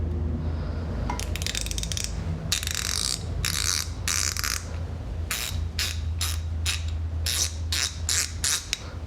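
Gearwrench and Tekton 90-tooth ratchets, just torn down and reassembled, click in quick bursts, a fine high buzzing ratchet rattle repeated in short strokes of varying length, close and clear over a steady low hum.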